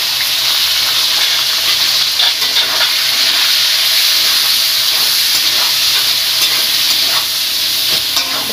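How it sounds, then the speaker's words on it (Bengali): Onions and tomatoes frying together in hot oil with whole cloves, cardamom and cinnamon for biryani, a steady loud sizzle and hiss with occasional stirring scrapes, close and continuous throughout. "পেঁয়াজ আর টমেটো আমি একসঙ্গে ভেজে নেব।"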